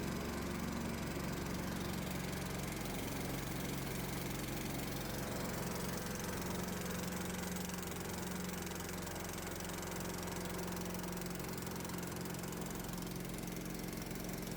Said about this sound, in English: Now the alternator is generating 32 volts and the motor is drawing almost 30 amps